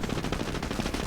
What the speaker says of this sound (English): Right into the anti-tank gunfire.